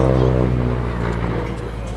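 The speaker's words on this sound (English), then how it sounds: "That's a wonderful sound from that engine." A vintage aircraft engine runs at an air festival, a steady low drone with strong harmonics that is loud at first and slowly fades as the aircraft pulls away, with crowd babble faintly underneath.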